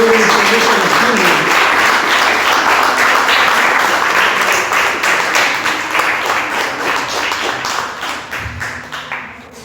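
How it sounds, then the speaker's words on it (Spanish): A church congregation breaks into loud, sustained applause that holds strong for several seconds and then slowly thins and fades toward the end, with voices mixed in. "Den un fuerte aplauso al Señor, aleluya."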